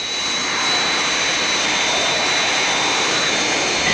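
Steady, loud roar of an aircraft engine in flight, a broad continuous hiss-like drone with a faint high whine, heard alone.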